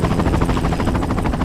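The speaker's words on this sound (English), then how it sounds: "I think that helicopter's what you've just come on" A helicopter in the Tomb Raider level Nekropolis gives a loud, close, continuous rotor thump with steady rapid pulsing that fills the whole moment.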